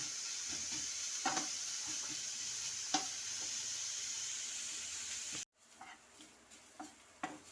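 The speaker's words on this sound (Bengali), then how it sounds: "গাজরটা একটু ভালোভাবে ফ্রাই হতে থাক" Carrots fry in a pan for vegetable chops, a soft steady sizzling hiss with a few light stirring clicks, quiet and continuous until it cuts off abruptly near the end, then faint clatter.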